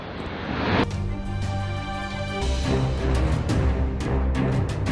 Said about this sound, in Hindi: मैंने ये बाइक को ऑन किया तो ऑन करते ही आप देख सकते हैं।